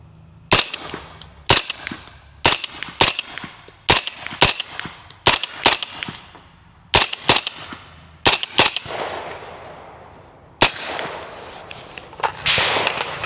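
An 8.6 Blackout rifle fires Phantom seconds (blem) ammunition outdoors, a series of about a dozen sharp, loud reports at uneven intervals, each with a short decaying echo.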